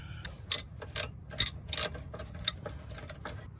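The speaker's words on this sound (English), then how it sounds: "So now we're going to use 10 millimeter to open these bolts." A 10 mm ratchet loosening alternator bolts on a Mercedes ML350, close sharp ratcheting clicks in short uneven bursts over a low steady hum, no voices.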